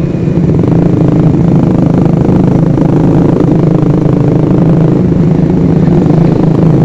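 A loud, steady engine drone close by from a custom motorcycle on the road, a continuous low rumble, with no voices.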